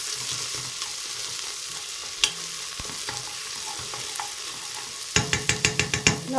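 Garlic and onion fry in a pan with a steady close sizzle, a few scattered utensil knocks, then a quick series of rhythmic scraping stirs near the end.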